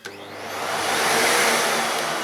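Miele S4780 cylinder vacuum cleaner starting up after a short click, its motor rising into a steady, loud broadband whine that holds for the rest of the moment, with no talking.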